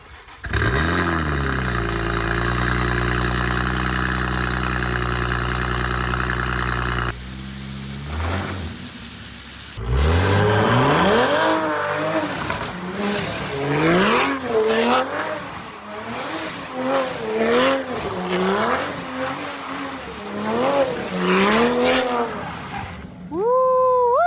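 A car spins a donut on brand new tires, the engine revving hard in rising and falling sweeps over a steady loud roar, with a brief burst of broadband tire noise early on.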